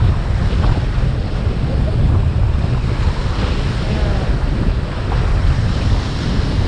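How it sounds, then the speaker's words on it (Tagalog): Heavy ocean waves crash and surge continuously, loud and close, with strong wind buffeting the microphone throughout and no voices. "Grabe yung hakpas ng alon."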